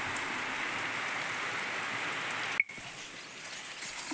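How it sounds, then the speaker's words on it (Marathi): Heavy morning rain pouring down steadily outside, a dense continuous hiss of drops on surfaces that is briefly interrupted by a short click midway, then carries on. "सकाळी सकाळी आमच्याकडं खूप पाऊस येतो हे बघा खूप पाऊस आहे"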